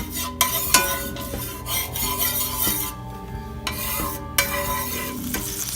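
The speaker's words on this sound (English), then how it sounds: "So turn your pan on medium-high heat and start to brown your meat." Meat browning in a well-oiled pan of peanut oil over medium-high heat for tacos, with a steady sizzle and frying hiss under repeated stirring and scraping of a utensil against the pan, close and continuous.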